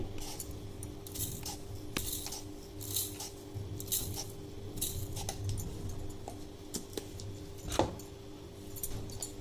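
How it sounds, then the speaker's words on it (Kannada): A spoon clinks quietly and repeatedly against a container as spoonfuls of sugar go into a raw mango drink, with small irregular metallic taps over a soft background hum. "ನಾನು ಸುಮಾರು ಇಷ್ಟಕ್ಕೆ ಒಂದು ಎಂಟು ಚಮಚ ಸಕ್ಕರೆ ಹಾಕ್ತಾಯಿದ್ದೀನಿ"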